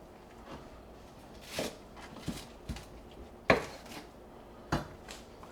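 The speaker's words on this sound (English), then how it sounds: "Now I've got a little bunch of cilantro here. So I'm going to go ahead and cut this off." A knife cuts through a small bunch of fresh cilantro on a board, giving a few separate, crisp chops with pauses between them, fairly close and otherwise quiet.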